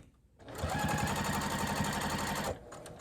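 A sewing machine runs steadily for about two seconds, stitching a microwaveable bowl cozy seam, its needle chattering in a fast even rhythm, close and loud, starting and stopping cleanly.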